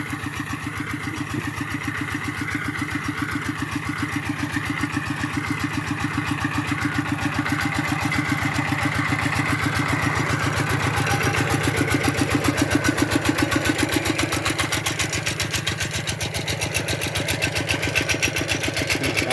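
A small engine runs steadily in a rice field during dry-season rice farming, a continuous loud buzzing chug with a fast even pulse and no pauses, alone without talk.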